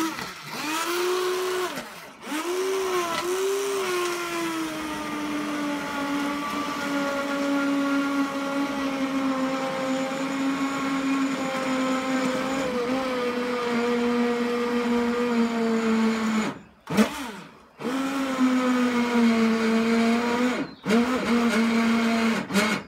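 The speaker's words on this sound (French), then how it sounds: "le passer au mixeur." An electric kitchen blender pureeing a soup of nettles and sweet potato, a loud continuous motor whine that drops in pitch as it loads, briefly cut off and restarted several times.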